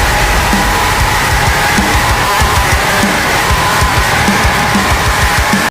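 A harsh screamed vocal tears through a dense, loud heavy rock mix from a subscriber's song, distorted and constant with driving drums underneath.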